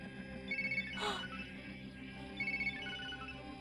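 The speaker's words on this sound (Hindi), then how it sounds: "किसका फोन है?" An electronic phone ring sounds in two short trilling bursts, separated by a pause, over a steady low background hum.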